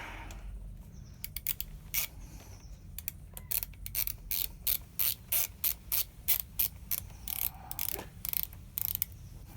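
An Ohlins fork top cap being screwed on during assembly, heard as a close series of quick, crisp ratcheting clicks in uneven bursts that speed into a steady rhythm, with no talking.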